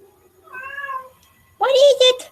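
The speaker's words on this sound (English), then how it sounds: "there goes my cat" A pet cat meows indoors, a short drawn-out call followed after a brief pause by a louder, rougher meow, close by with no talking over it.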